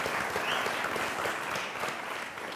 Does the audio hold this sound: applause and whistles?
yes